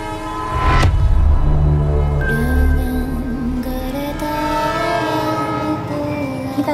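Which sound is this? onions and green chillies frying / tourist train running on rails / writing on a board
tourist train running on rails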